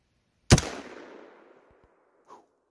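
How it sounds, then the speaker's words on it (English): A single sharp gunshot from a rifle firing a slug at a block of ice cracks out nearby, then its echo trails off for about a second, followed by a faint thud. "gonna shoot that layer ice block with this here seismic slug"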